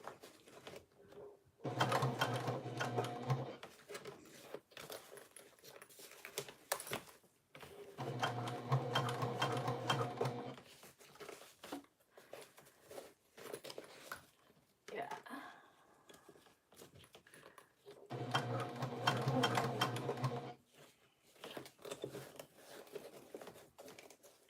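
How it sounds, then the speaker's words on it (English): A sewing machine stitches a modified inside panel for a Catalina bag: three steady whirring runs of a few seconds each, separated by quieter pauses, with faint talking at times. "You just sew it normal."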